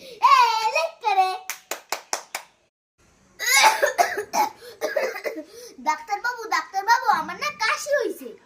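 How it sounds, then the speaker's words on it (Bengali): A child coughs several times in quick, sharp bursts. Lively talk and laughter follow, with some claps. "ওমা তাই নাকি কেমন কাশি হয়েছে তোমার"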